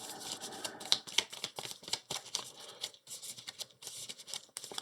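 A quick shuffle of playing cards for the tabletop game Earthborne Rangers, a series of crisp riffling bursts and soft card slaps, close and fairly quiet with no talking.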